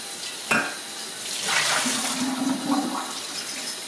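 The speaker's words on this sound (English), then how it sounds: "whenever you rinse your milk jugs out, your jars, rinse with cold water first." Cold tap water runs and splashes while milk jugs and jars are rinsed at a sink, starting with a sharp knock, then a steady close gush that swells and fades.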